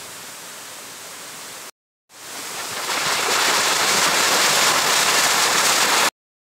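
Heavy rain falls outside a house during a typhoon in the rainy season, a loud, steady broadband hiss that swells and holds, broken by two short silent gaps.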